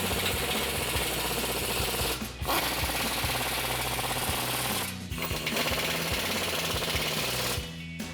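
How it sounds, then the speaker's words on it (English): A power tool on a 15mm socket tightens strut bolts on a Ford F-150 during a 3-inch front lift strut install, giving a loud, rapid buzzing rattle in three long runs split by brief pauses. "Then take a 15mm socket and tighten them down."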